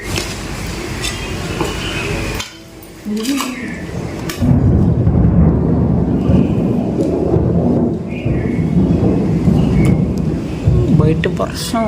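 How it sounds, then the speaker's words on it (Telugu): Rain falls outside as thunder rolls in deep, heavy rumbles that swell and linger, with a brief quieter gap early on, and voices are faintly present in the background. "బయట వర్షం"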